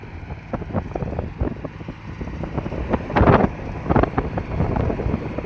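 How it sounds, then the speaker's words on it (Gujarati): A mini tractor drags a wooden levelling plank across a sown field, its engine a rough, uneven rumble close to the microphone, with louder surges and wind buffeting throughout. "આપણે હાંકી છીએ જો મિની ટ્રેક્ટર"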